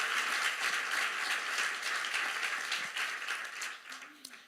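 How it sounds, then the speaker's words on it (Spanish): A church congregation applauds, producing a dense wash of many hands clapping that fades toward the end, with faint voices underneath. "Si ese aplauso es para Jesucristo, que sea con todas las ganas."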